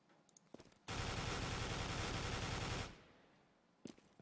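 Rapid automatic gunfire in Counter-Strike, fired through a wall at an upper corner: one dense, sustained burst of about two seconds, loud and close, framed by a few softer single shots before and after.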